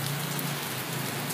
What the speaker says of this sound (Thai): น้องฝนก็มาอีกแล้วนะฮะ